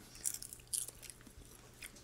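Crunchy Larvets worm snack, barbecue or cheddar cheese flavored, bitten and chewed close up: a few sharp crisp crunches in quick bursts, then quieter chewing, with no talk over it.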